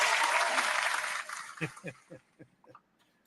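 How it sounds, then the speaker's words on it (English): Brief applause from a small group fades out after about a second and a half, followed by a few scattered claps and a soft voice in a quiet room. "I'm actually going to give him a big applause on that one"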